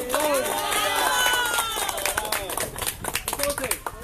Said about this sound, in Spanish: Él se merece todos los aplausos de hoy.